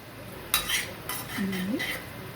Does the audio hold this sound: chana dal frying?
yes